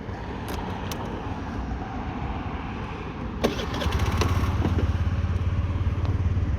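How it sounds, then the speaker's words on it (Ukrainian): A Honda Dio 110 JF31 fuel-injected scooter engine idles steadily with a low rumble that grows louder and fuller after a click partway through, with no talking. "Ну, Двигун працює суперово."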